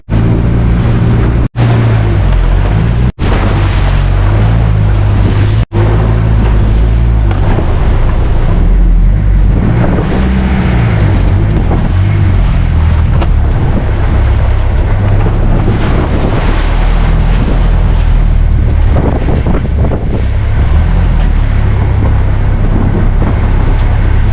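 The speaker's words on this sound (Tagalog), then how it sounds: "Tumatabingi na yung bangka sa lakas ng alon." A boat tilts and pushes through rough water near Burias Island, Philippines, while loud wind buffets the microphone and waves crash around the hull steadily throughout.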